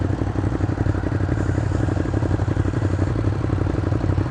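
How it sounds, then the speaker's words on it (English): Motorcycle engine running loud and close while riding, a steady mid-pitched drone with clattery texture through a botched quick-shifter downshift; a brief faint voice can be heard. "I just missed a shift with the quick shifter on downshifting."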